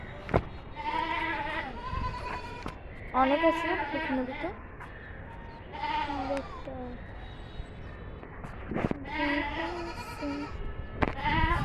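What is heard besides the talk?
goat bleating on a rooftop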